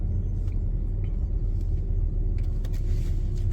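Inside a moving bus, a deep constant engine and road rumble fills the cabin, steady and fairly loud, with faint rattles and thumps now and then and no talking.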